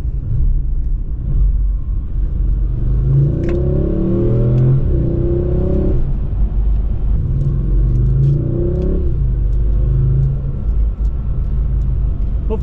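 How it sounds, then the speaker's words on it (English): An Audi S6 engine with stock exhaust rumbles steadily, revving up through gears twice with rising harmonic sweeps, fairly close and moderately loud, muffled rather than brash. "Hopefully you can hear this car. It does sound pretty good, but it's rather quiet with the OEM exhaust."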